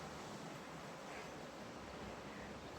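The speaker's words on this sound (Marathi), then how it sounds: "उथळणारा समुद्र, अरबी समुद्र." Arabian Sea surf on the Konkan coast at Harihareshwar, seen between two hill passes: a continuous distant wash of surging waves, broad and steady with some wind noise.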